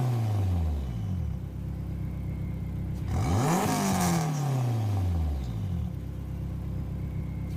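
A Garage RCR Honda Civic VTEC engine in Gran Turismo 7 revs hard, pitch sweeping down, surging back up to a high screaming peak, then falling away again, loud and close with no talking.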